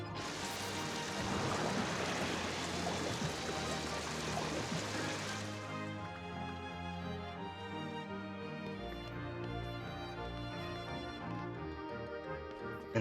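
Water gushes steadily from a faucet in Kingdom Hearts, a dense rushing wash that then thins into a softer trickle under game music.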